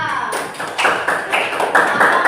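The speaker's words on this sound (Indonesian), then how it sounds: "tepuk tangan untuk kelompok kedua" Classroom students give a short round of clapping for a group during a lesson, a brief burst of sharp, close hand claps.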